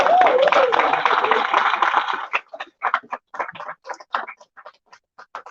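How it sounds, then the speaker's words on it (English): An audience gives a dense round of applause at a Tamil Heritage Month event on Parliament Hill. The clapping lasts about two seconds, then breaks into scattered claps as a voice begins speaking. "let's give it one more round of applause"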